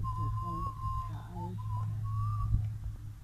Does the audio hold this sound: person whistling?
yes